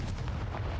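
A Confringo blast spell goes off in Hogwarts Legacy on PC, a short, heavy booming burst with a low rumbling body, close and loud.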